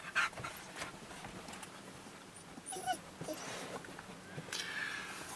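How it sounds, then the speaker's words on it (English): Oscar, a dog out on a walk near a lighthouse in El Cotillo, whines and pants restlessly in short bursts against light outdoor wind, fairly close to the microphone. "Shut up, Oscar, you whingy dog!"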